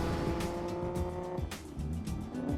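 A 1963 Ferrari 250 GTE driving, its engine note rising and falling through gear changes, close and fairly loud with a brief tire squeal, and no voices.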